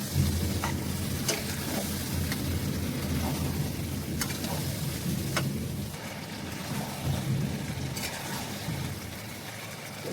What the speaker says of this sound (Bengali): মুরগির মাংস দিয়ে বেশ খানিকক্ষণ ধরে আমি কষাতে থাকবো।